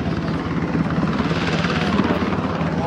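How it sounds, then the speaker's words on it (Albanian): Black Hawk military helicopters run at a NATO air base, a loud, steady rotor-and-engine roar that holds without a break, close and dense, with no voices over it. "mund të shikojmë tani janë helikopterët"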